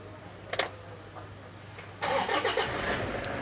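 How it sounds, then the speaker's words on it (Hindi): A Toyota Innova's engine starts: a brief mechanical burst near the start, then the engine catches and settles into a steady, fairly loud running note. "तो एक बार मैं गाड़ी को स्टार्ट करके दिखाता हूँ।"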